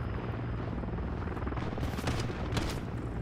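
Helicopter in the Call of Duty Search and Destroy game mode, a loud, steady rotor roar filling the whole stretch, with sharp bursts of gunfire cutting through near the end.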